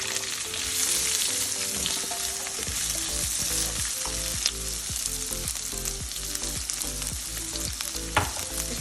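Two large sliced onions fry in a pan for a bitter gourd and onion sabzi, giving a loud, steady sizzle throughout with scattered stirring clatter and no talk.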